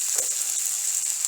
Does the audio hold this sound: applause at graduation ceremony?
no